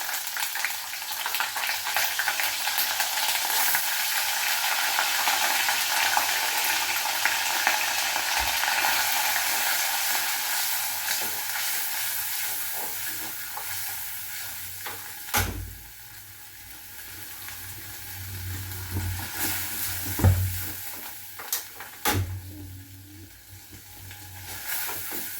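Ginger and garlic sizzle and fry in a hot pan with steady, close crackling and occasional stirring clatter, the frying noise thinning out partway through.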